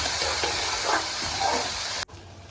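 Sliced onions frying in a pan with cumin, a steady close hiss and sizzle with small crackles that cuts off abruptly near the end, leaving quieter background.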